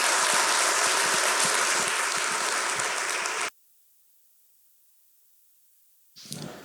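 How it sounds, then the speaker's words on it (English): A burst of loud crowd applause for a panel at a small business event in Weslaco, several seconds long, cutting off abruptly into silence, then a brief swell of clapping returns at the end. "Let's give these guys a round of applause."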